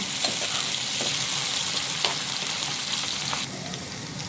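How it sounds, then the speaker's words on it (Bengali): Prawns sizzle and crackle as they are stirred and fried in a pan, a steady close frying hiss with a few scraping stirs, alone without talk. "এখন দিয়ে দিব চিংড়ি মাছগুলো দিয়ে ভালো করে নাড়াচাড়া করতে হবে।"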